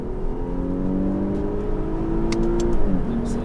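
An Infiniti Q50S with a V6 hybrid producing 364 hp accelerates in sport mode, its engine note rising steadily through the rev range with a brief dip at a gear change, heard from inside the cabin.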